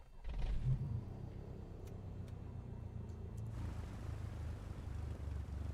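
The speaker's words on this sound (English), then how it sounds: "Engine start." A Cessna CJ4 business jet's engine starts in Microsoft Flight Simulator 2020: a low steady rumble that swells into a broader, louder roar partway through and then holds, with a few faint clicks, no talking.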